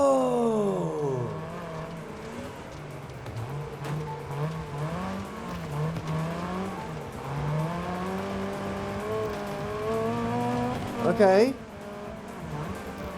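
A race car in the video game Wreckfest 2 downshifting into turns, the engine pitch repeatedly rising and dropping with each shift, a tire squeal near the end, someone talking over it.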